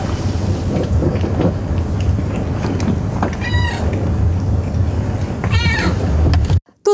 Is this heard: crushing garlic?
no